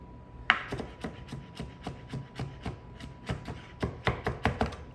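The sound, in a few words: cutting vegetables for fried rice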